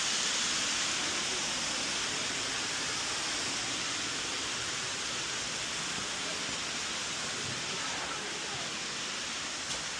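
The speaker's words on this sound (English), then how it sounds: "from this point I can see where the water is being pushed out. It's being probably just a pressure pump of sorts, pushing that water out" Water forced out by a pressure pump at Rock Garden in Chandigarh gives a constant broadband rushing hiss, like a waterfall, steady and unbroken for ten seconds at moderate volume.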